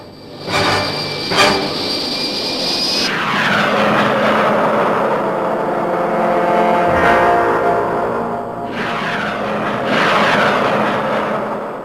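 Meteor jet aircraft flying past, a loud roaring engine rush that swells and falls several times and stays close and continuous, with no voices.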